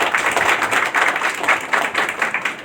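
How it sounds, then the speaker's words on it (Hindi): Audience at a stress-free living spiritual session clapping loudly, a dense continuous burst of applause from many hands filling the room, steady throughout with no talk over it. "मैं चाहता हूं इस बारी सब लोग ताली बजाएंगे, योजना बिहार वाले, वैसे बजा के दिखाइए।"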